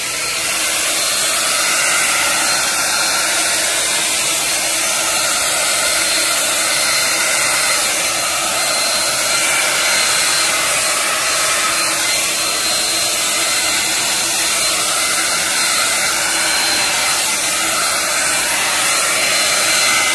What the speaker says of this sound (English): I'm going to use my hair blow dryer to blow it out, cover the edges.